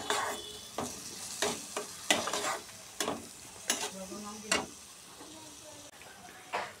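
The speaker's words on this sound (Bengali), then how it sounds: "মশলাটা আমাদের ভালো করে ভাজা হয়ে গেছে।" Cumin and coriander powder masala fries in a pan with a steady soft sizzle, broken by repeated scraping and knocking of a spoon stirring it, close and fairly quiet.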